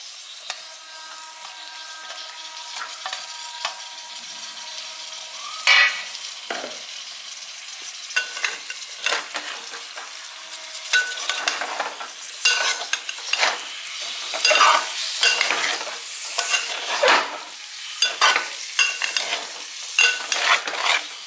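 Boiled eggs fry on low heat in a pan, giving a soft, steady sizzle broken by repeated scraping and stirring bursts that grow busier and louder toward the end, with no talking.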